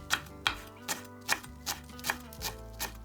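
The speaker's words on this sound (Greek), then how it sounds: "Στο τέλος ψιλοκόβω και λίγο φρέσκο βασιλικό και τον ρίχνω πάνω στο ταψί." Fresh basil being finely chopped with a knife on a board for a vegan one-tray bake, about eight crisp, evenly spaced cuts over a steady low background hum, close and fairly loud, with no talking.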